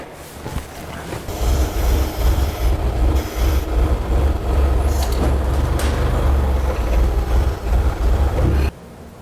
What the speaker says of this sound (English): hop on the tow motor there, and we're going to drop her down on the floor